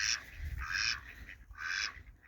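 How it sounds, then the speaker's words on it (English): Homestead ducks squabble in a fight, giving repeated harsh honking quacks in about three close, loud bursts over a low background rumble. "Those 2 boys were fighting, and Big Mama came running over here to break up the fight between the ducks."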